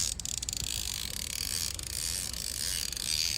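A fishing reel winds in a Spanish mackerel while sailing, with a fast continuous ratcheting clicking under rushing wind and water noise, and no voices.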